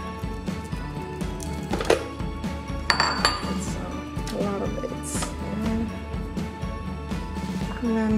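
Oats, dates, raisins and cinnamon go into a food processor for no-bake vegan oatmeal raisin cookies, with clinks and clatters of glass, bowls and utensils against the container and occasional faint speech.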